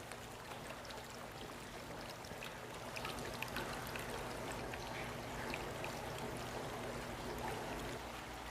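Water flows steadily through a culvert on a small demonstration stream table carrying woody debris, a constant soft trickling and rushing wash with no talk over it.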